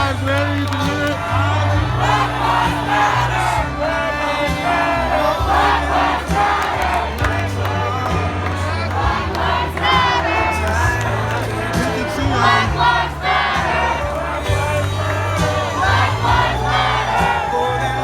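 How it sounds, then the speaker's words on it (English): A large, dense crowd at a downtown Philadelphia street celebration of Biden's election win chants and shouts loudly and continuously in rhythmic bursts of many voices. "Chanting Black Lives Matter, you can hear it."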